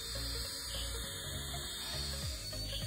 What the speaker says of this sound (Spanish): escuchen cómo suena el tinaco